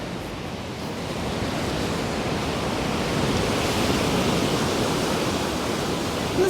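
Stormy sea surf breaking on a beach near the Arcadia area of Odesa, a steady loud roar of crashing waves and wind noise that continues without a break.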